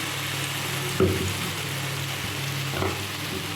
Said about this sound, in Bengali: জিরে গুঁড়ো ভালো করে মশলাটা কষাই